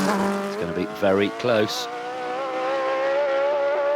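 A Brabham race car at the Goodwood timed shootout runs with a sustained, rising engine drone under a commentator's voice, with a couple of sharper gear-change dips early before the note holds steady.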